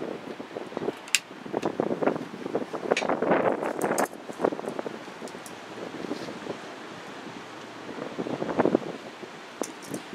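Gusty wind buffets an outdoor microphone at a muzzleloader shooting range, with irregular low rumbling bursts that rise and fall throughout, moderately loud with no voices.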